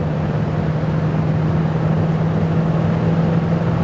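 Classic factory GT car with a three-speed transmission accelerating, a steady loud engine drone with a strong low hum holding even throughout, no voices.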